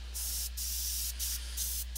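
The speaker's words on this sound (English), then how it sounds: "trying to hear over this, the compressor or whatever" A Badger airbrush spraying paint, a close, steady hiss broken by brief pauses, over a low hum from a compressor.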